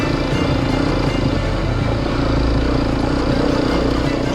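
A motorcycle engine drones steadily at close range as it climbs a steep, rocky uphill track strewn with big stones in green hill country in Idukki, India, loud and continuous without a break.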